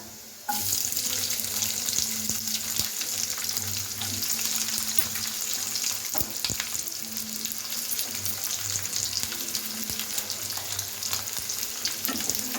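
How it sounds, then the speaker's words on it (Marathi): Onion added to a pan of browned garlic, frying with a steady, close sizzle for about twelve seconds, with occasional stirring scrapes and clinks and no talking. "आता आपला लसूण लालसर झालेला आहे आणि आता आपण हा कांदा टाकून देऊया"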